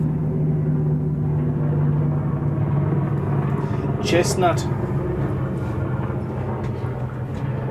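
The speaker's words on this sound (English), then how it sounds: "here comes the helicopter." A helicopter passes overhead: a steady low mechanical rumble that drones throughout while a person talks nearby.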